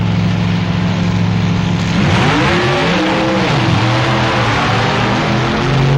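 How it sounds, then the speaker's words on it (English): Supercharged A-Gas drag racing cars roar at the 1965 NHRA Winternationals, a loud idling rumble that erupts into a harsh full-throttle launch, the engine pitch sweeping up through gears as the run blasts away, with no talk. "In the A-Gas Supercharged run, it's K.S. Pittman again versus the Yellow Coupe"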